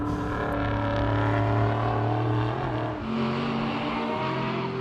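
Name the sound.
Marc Cars sports sedans racing at Sydney Motorsport Park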